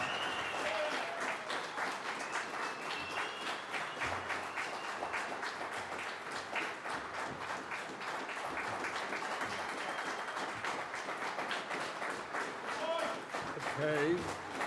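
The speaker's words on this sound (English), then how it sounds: "I would just ask you, by a round of applause" Long, steady applause from an audience at a town council candidates debate, dense clapping throughout with a few voices and whistles near the end.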